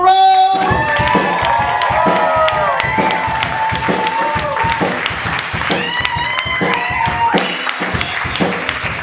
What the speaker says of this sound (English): Everybody clap your hands together.